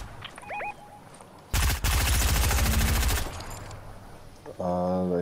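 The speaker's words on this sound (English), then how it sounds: "There's another shot behind us here" Gunfire in a Fortnite trios match bursts out close and loud as a rapid stream of shots lasting nearly two seconds, with quieter game sounds before and after it.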